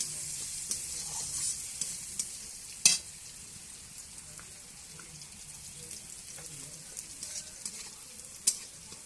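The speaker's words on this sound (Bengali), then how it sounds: "ভেজে নেব চালটা।" Gobindobhog rice fries in a wok with a constant low sizzle, broken by sharp clicks and scrapes of stirring, two louder knocks standing out against the quiet hiss; no one speaks.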